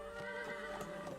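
A horse neighs in the video game Crusader Kings 3 as the stables are completed, a steady, moderately loud whinny with clear harmonic tones and some soft clip-clop underneath.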